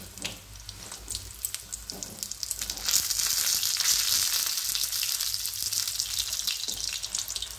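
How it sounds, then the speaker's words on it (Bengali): Cauliflower pakoras sizzle and crackle in hot oil, a busy bubbling hiss that swells midway and holds steady, with occasional taps and scrapes. "এইবার পকোড়াগুলো আমার ভাজা হয়ে গেছে, এবার আমি এগুলো তুলে নিচ্ছি।"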